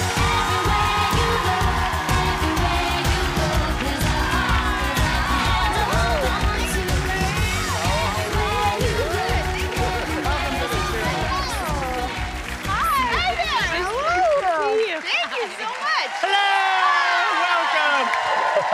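A television studio audience applauds and cheers for a guest on a cooking talk show, dense sustained clapping with whoops, near and loud, tapering off after about fifteen seconds as voices continue.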